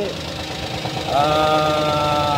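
A Toyota Agya G TRD 1.0 automatic with a DOHC fuel-injected engine runs close by, giving a steady mechanical hum that steps up partway through into a stronger, tonal idle drone.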